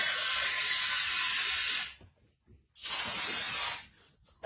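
Beest Fullstop spray foam sprays through a black tip, applied as sound deadening before insulation: two long, close, loud hissing bursts separated by a short pause.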